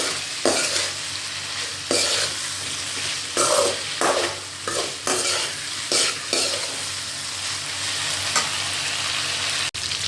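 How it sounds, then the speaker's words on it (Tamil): Cauliflower pieces stirred and fried in a pan over a medium flame, a steady close sizzle broken by repeated scraping strokes of a spatula at an uneven rhythm. "இந்த ஸ்டேஜில் நீங்கள் ஜஸ்ட்டு ஒரு 5 மினிட்ஸ்க்கு நல்லா கொஞ்சமாக பரட்டி விட்டுட்டே இருங்க, மீடியம் ஃப்ளேமில் வச்சு"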